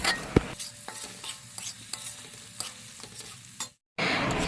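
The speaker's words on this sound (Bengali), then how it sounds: "তো দিয়ে সমস্ত উপকরণ একসাথে এবার ভালোভাবে কষিয়ে নেব একদম অল্প আঁচে" Spice paste with salt and turmeric stir-frying on low heat for a fish curry, a soft sizzle broken by regular spoon scrapes against the pan, then a short silence before a louder burst.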